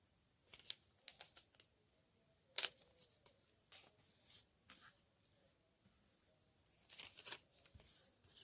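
Paper being cut for handmade card making: faint, crisp snips and rustling scrapes in short irregular bursts, close by, with no talking.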